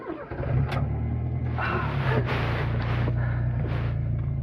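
Fiat Uno Turbo i.e. MK1 engine cranking briefly and catching, then settling into a close, loud, rough idle with a strong low hum.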